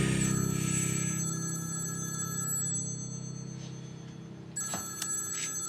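A telephone rings with a steady, high bell-like tone in an indoor drama scene, carrying over a low background hum. A sharp click or clatter comes near the end.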